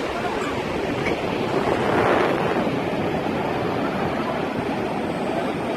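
Sea surf washing onto a beach on a sunny morning seaview walk, a steady broad roar with a swell of breaking water midway, wind buffeting the microphone throughout.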